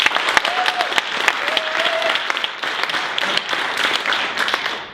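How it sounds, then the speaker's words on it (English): Audience at a HIVE 2016 design conference keynote breaks into steady, close applause with crisp individual claps standing out, sustained for five seconds and tapering at the end. "give yourselves a round of applause."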